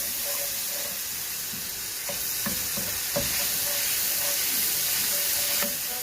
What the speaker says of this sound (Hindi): हम इसको थोड़ा सा सौते कर लेंगे।